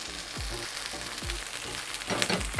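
Mushrooms sizzle steadily in a hot pan for a meaty mushroom burrito filling, with several soft scraping thumps as they are turned over, growing a little louder near the end.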